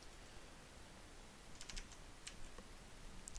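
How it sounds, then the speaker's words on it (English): Typing on a computer keyboard, a short burst of crisp keystroke clicks over a low steady background hum, quiet and close. "I'm going to type in image."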